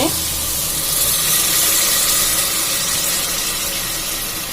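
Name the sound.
pouring coconut milk and water into rice pot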